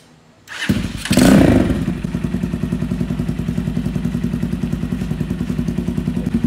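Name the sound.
motorcycle with custom exhaust running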